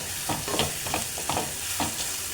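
Sliced onions sauté in a pan for a prawn and potato curry, giving a soft steady sizzle with a few stirring scrapes close by.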